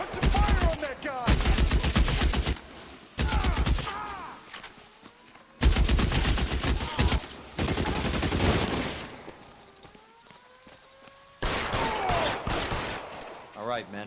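Gunfire during a shootout in the video game L.A. Noire, on the arson desk: long bursts of rapid automatic fire and single shots, loud and close, separated by short lulls with faint echoes and rattling.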